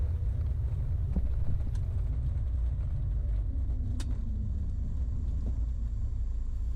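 Small airplane rolling out after a full-stop night landing on runway 18 right with full flaps and brakes applied, a steady low rumble of engine and wheels with faint clicks and squeaks over it.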